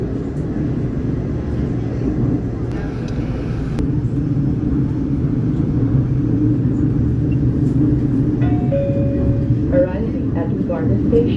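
An LRT-2 light rail train runs along the line with a steady low rumble and hum, as an onboard announcement voice speaks near the end.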